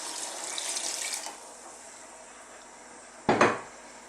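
Soaking water from dried mushrooms is poured into a Chinese lamb stew as stock, a soft splashing pour that fades, followed by a brief clank of a pot or utensil.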